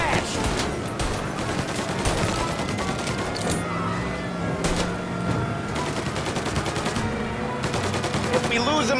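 Rapid gunfire rattles through a shootout with police in Mafia Definitive Edition, dense bursts of shots continuing steadily with a car engine and a voice underneath.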